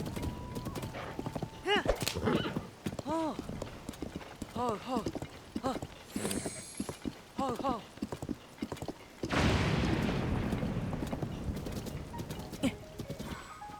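Rhythmic hoofbeats of a galloping horse with repeated whinnies in The Legend of Zelda: Tears of the Kingdom, mixed with game sound effects and a rush of noise near the end, under ongoing talk.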